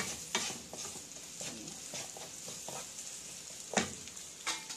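Close scraping and clinking of a utensil stirring spices for raw banana poriyal in a pan over a soft sizzle, with irregular sharper strokes.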